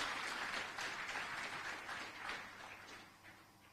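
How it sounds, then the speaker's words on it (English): Audience applause at a live conference session presided over by Kenya's president, welcoming a speaker to the podium; steady broadband clapping from a crowd that gradually fades over several seconds. "Why don't we welcome her with a clap?"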